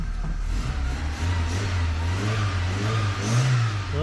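A VW Golf Mk2 engine, heard close, revs up and down several times over a low idle, the pitch rising and falling in waves with no talking.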